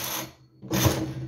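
A knitting machine set at tension 8 carriages across rows of a baby bootie, two loud sliding whooshes with a brief pause between, close and alone.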